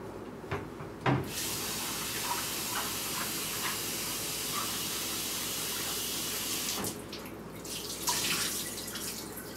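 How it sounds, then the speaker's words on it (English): Raisins washed under a running kitchen tap, a steady close hiss of flowing water that stops briefly near the end and then resumes, no talking. "You gotta wash the raisins."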